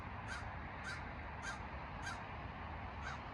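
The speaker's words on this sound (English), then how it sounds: "Crows are awesome." Crow cawing on a valley hiking trail, five evenly spaced harsh caws about half a second apart, moderately distant over a steady outdoor background hiss.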